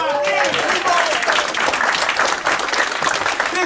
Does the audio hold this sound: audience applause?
yes